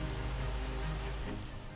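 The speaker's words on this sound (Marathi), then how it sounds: "सिंधुदुर्ग जिल्ह्यात पावसानं पुन्हा जोर धरलाय" Steady rain falls in Sindhudurg district, Konkan, during a heavy monsoon spell, making a continuous dense hiss of drops on surfaces that holds even throughout with no voices.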